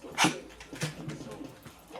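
A puppy at a dog groomer's gives short, high whimpers and yelps, a few sharp close cries with quieter whines in between.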